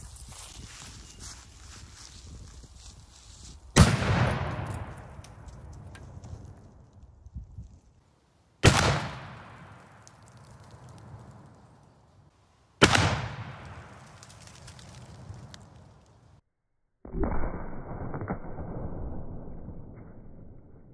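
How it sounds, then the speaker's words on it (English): Cannon fire against the side of a pirate ship with musket balls as shot: four sharp, loud booms a few seconds apart, each with a long rumbling decay, the last one more muffled and sustained. "let's see what happens if you hit the side of a pirate ship with a load of musket balls"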